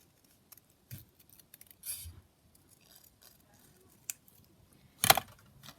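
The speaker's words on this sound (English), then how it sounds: "So if I just cut around this." Scissors snip around paper for a junk journal, a few quiet, sparse cuts and rustles spread apart, with a sharper louder snip near the end, close and alone.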